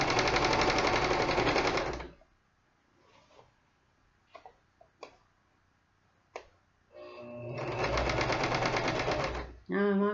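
A small sewing machine stitching fast on a reversible Christmas tree skirt, two loud steady buzzing runs of stitches separated by a quiet stretch of faint clicks and handling noises.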